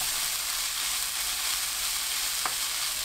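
Bellflower root stir-fries in sesame oil over medium heat, making a loud, dense, continuous sizzle with a faint stirring scrape, and no voices.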